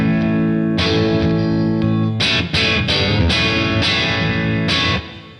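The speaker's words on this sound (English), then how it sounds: "And this is the distortion mode, and I'll flick backwards and forwards between the overdrive and distortion." An electric guitar played through a Demonfx Prince of Sound pedal set to distortion mode, a sustained saturated chord ringing first, then several sharply struck chords in quick succession, thick and loud, fading at the end.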